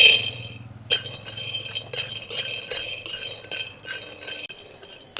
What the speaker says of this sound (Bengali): চিনে বাদাম নিয়ে নিয়েছি, চিনে বাদাম তার শুকনো কড়াইতে ভেজে নেব।